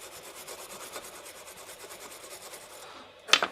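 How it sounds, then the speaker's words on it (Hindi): Steady rapid rubbing and rasping as a Type C charging jack is scrubbed with cleaner, close and continuous, ending in a few sharper louder scrapes. "अब इसमें हम क्लीनर डालेंगे और इसको क्लीन करेंगे।"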